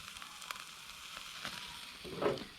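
Steak pinwheels cooking on a Firebox stove outdoors, a quiet, uneven sizzle with soft crackles and a brief louder flare near the end.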